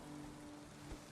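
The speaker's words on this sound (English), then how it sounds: "And now it's raining." Steady, soft rainfall patters over the ground in the survival video game Valheim, a faint continuous hiss with no talk over it.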